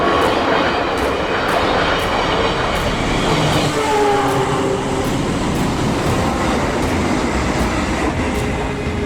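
A KRL commuter train runs steadily, with a continuous loud rumble of carriages over rails and regular clickety-clack beats from the wheels passing track joints, heard from close by with no speech.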